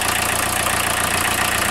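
A 1981 Volkswagen Rabbit engine idles steadily up close, an even mid-pitched running hum with a faint rhythmic knock and no voices.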